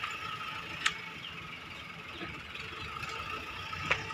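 A farm tractor ploughing a field nearby gives a faint, steady low engine rumble with a couple of brief metallic squeaks, heard alone at a distance.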